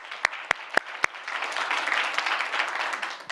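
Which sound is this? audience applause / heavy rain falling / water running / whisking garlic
audience applause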